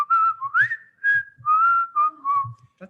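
A person whistles a wavering, melodic tune in several short phrases with brief gaps, close and fairly loud, with no talking.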